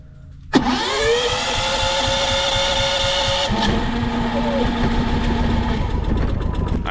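A big propane-fuelled homestead backup generator starts with a sharp catch and settles into a loud, steady engine drone close by, its pitch dropping slightly a few seconds in, with no talk over it.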